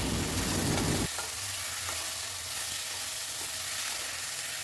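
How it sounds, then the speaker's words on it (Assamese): Local chicken meat hits half-fried onion and whole cumin in mustard oil in a kadai, starting with a loud, dense sizzle that drops after a second into a steady, softer frying crackle. "পিঁয়াজখিনি এতিয়া আধা ভাজি লোৱাৰ পিছত ইয়াতে দি দিলোঁ মাংসখিনি।"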